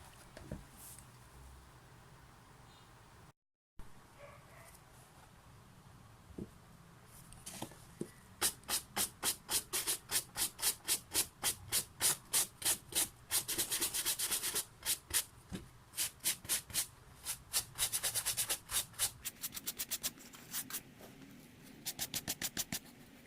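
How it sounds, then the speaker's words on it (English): A soft bristle brush scrubbing the suede of a Puma shoe, heard as quiet, close brushing that builds into fast, even back-and-forth strokes with short pauses between bursts. "brush the suede part of the shoe and try to remove the top dirt using just our soft bristle brush"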